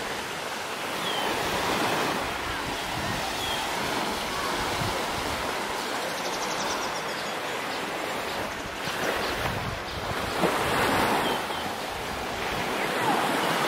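Sea waves washing onto a beach under a very blue sky, with wind blowing across, a loud continuous surf roar that swells in places; no clear speech.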